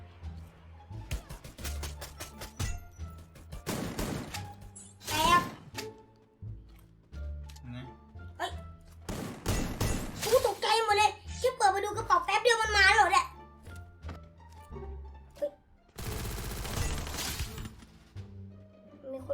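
Gunshots in the battle royale game Free Fire, sharp loud bursts in several clusters mixed with excited, fast talking from young-sounding players.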